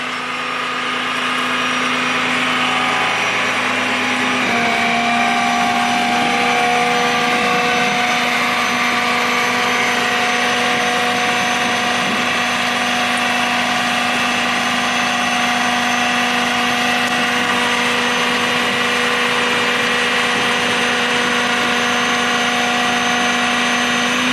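A 2021 Ram tow truck's engine idles steadily and loudly up close, a constant drone with a tonal hum that shifts slightly a few seconds in and then holds even for the rest of the stretch.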